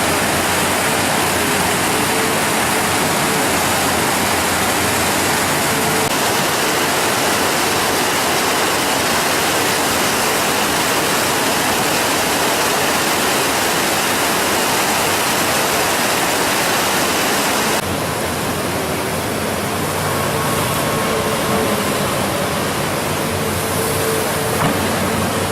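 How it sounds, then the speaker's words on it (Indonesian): Swift river water rushes continuously along a flood-hit riverbed in Aceh Tengah, a loud, dense, unbroken roar of fast-flowing water with a slight shift in texture toward the end and no voices. "melihat langsung kondisi alur air sungai yang masih deras di sisi selatan Kampung Lulumu"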